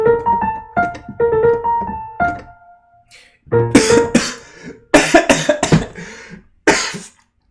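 A person coughs repeatedly and close up, in several separate loud bursts with short pauses between them, alongside some throat clearing.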